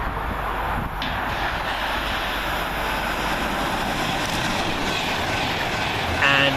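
Avanti West Coast Class 390 electric train 390-046 passing Milton Keynes Central station, a loud steady rushing roar of a train going through at speed, with a brief higher tone near the end.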